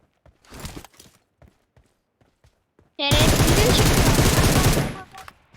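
Sustained burst of automatic gunfire in the mobile battle-royale game PUBG Mobile, loud and continuous for about two seconds, preceded by scattered footsteps and light game sounds.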